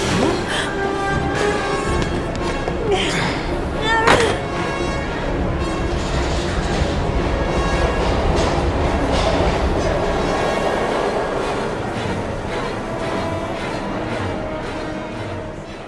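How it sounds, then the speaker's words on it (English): A train rumbles steadily in the Heavy Rain video game, a dense continuous roar of wheels and carriages with metallic clatter and a brief squeal, loud and sustained throughout. "We've got to get on that train, Ethan."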